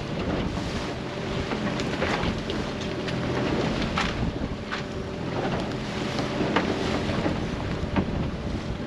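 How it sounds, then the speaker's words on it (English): Steady, dense hiss of heavy rain pelting a small boat out on the water while lobster and crayfish pots are hauled, with wind buffeting and faint knocks throughout, loud and continuous with no talk. "it's peeing down with rain"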